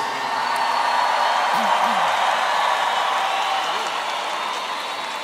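Audience applause for a performer at a Christian music concert, a sustained, dense wash of clapping from a large crowd with some whoops and voices mixed in, steady throughout and tapering slightly at the end.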